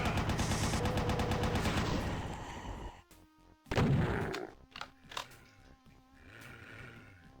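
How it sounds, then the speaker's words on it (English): A chain gun fires in the video game DOOM, a fast loud burst of repeated shots followed by scattered blasts, roars and game effects. "Take out your chain gun now."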